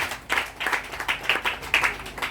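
A church congregation claps in a rhythmic beat, with about eight even bursts of applause in steady succession and faint voices beneath them.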